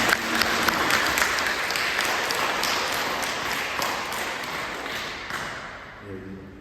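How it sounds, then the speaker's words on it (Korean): A church congregation applauds during a Sunday worship service, steady dense clapping filling the room at even loudness for several seconds before tapering off, with a faint voice starting at the end. "박수 한번 주세요."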